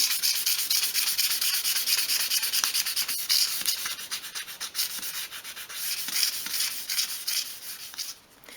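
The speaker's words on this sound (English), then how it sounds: "I'm just going to use the 500 grade sandpaper again to sand these" Steady back-and-forth rubbing of 500 grade sandpaper on a small part of a 1/12 scale model shop, close and continuous with a bright, hissy scratch, easing slightly toward the end.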